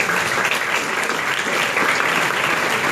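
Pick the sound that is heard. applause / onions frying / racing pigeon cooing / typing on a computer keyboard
applause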